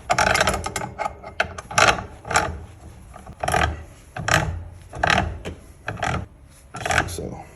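A fitting being screwed in and tightened on a Bradford White water heater gas control valve: a series of close ratcheting, scraping turns in short bursts with brief pauses between them.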